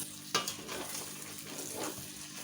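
Okra and masala being stirred in a pan over low heat, a steady frying sizzle with a sharp scrape of the spoon near the start and softer stirring strokes after, close and without talk.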